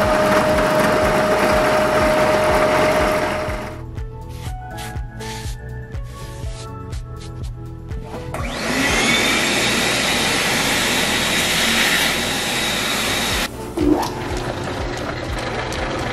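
A metal lathe cuts down a harmonic balancer in shallow passes, giving a loud, steady machining whine and hum with tonal ringing that shifts as the cut changes, ending in a brief clatter near the end.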